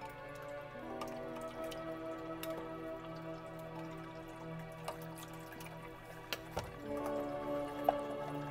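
Tissue culture media poured into a culture vessel gives soft, quiet liquid trickling and dripping over a steady low background hum, with a few faint clinks near the end.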